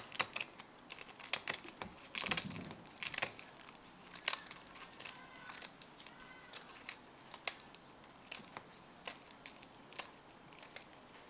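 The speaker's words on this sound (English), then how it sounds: "I'm going to be cutting down the bay leaves." Scissors snip bay leaves for a barbacoa spice blend, giving a close, quiet series of sharp, crisp cuts at an irregular pace with light rustling between them.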